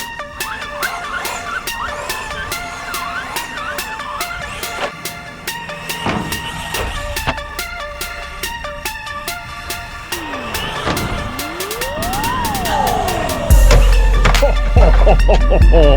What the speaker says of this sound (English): That is the new Haiboxing 12th scale truck.